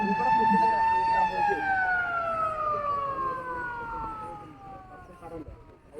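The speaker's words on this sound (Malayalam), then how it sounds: "സ്വിച്ച് ഓൺ ചെയ്തതിന് ശേഷം 3 സൈറൺ മുഴങ്ങും." A loud warning siren sounds before blasting at the Wayanad twin tunnel site, holding a long wail that slowly sinks in pitch over several seconds.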